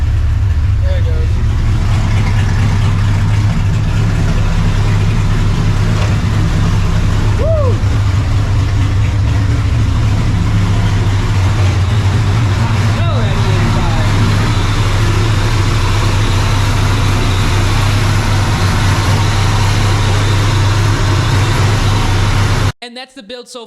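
A loud, deep supercharged 1999 Mustang GT engine runs steadily at a rumbling idle, close up and continuous, cutting off abruptly at the end.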